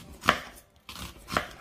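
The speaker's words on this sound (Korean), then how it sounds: "먼저 양파를 썰어 볼게요" A knife chops an onion on a cutting board: two sharp, close thuds about a second apart, with a third softer cut between them, in an otherwise quiet kitchen with no voices.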